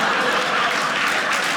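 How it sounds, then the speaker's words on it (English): A comedy show audience gives a dense, loud burst of applause filling the room, continuous and even throughout the short stretch. "Give a round of applause for majoring and lying."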